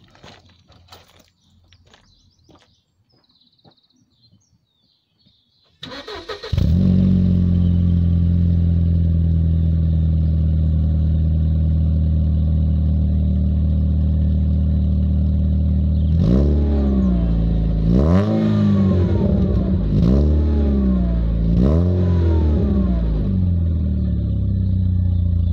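Mercedes CLK 230 Kompressor with the M111 engine and a deleted muffler: after a few quiet seconds of small clicks, the engine fires into a loud, close idle, then revs sharply several times in quick successive blips before settling back.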